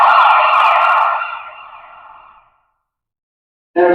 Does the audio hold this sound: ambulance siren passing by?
yes